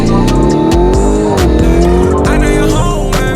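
A fast car drives on roads in Portugal, its engine revving and shifting up and down close by under loud music playing inside.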